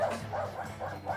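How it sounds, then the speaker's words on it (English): A neighbor's dog barks in short repeated bursts at a steady rhythm, a few yaps spread through the moment, moderately close and fairly quiet, with no one talking. "Damn neighbor's dog."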